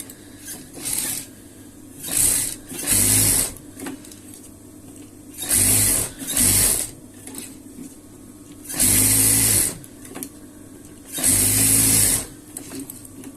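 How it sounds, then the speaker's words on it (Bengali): A sewing machine runs in short bursts, stitching the edge of fabric for a double-layer flower-pattern piece; five or six close, loud mechanical runs separated by brief pauses, with no talking. "এবার এটাকে আমি লবে সেলাই দিয়ে নেব।"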